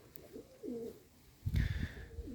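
Pigeons at a dovecote give soft, rising-and-falling coos in a few separate phrases, close but quiet, broken midway by a louder rustling thump of movement.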